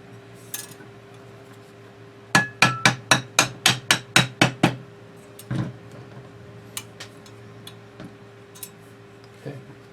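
Metal pin on a Sigmaco quad rail for a Type 81 rifle being tapped out: a quick run of about ten sharp, ringing taps in even rhythm, then a few scattered lighter knocks, close and clear.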